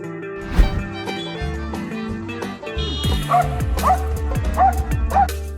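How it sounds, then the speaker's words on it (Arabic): A brave dog guarding children in a park barks and yips in several short bursts. The sounds are close and mixed with whimpers over a layered musical background. "وأفضل حل تحمي بيه أطفالك كلب شجاع زي ده"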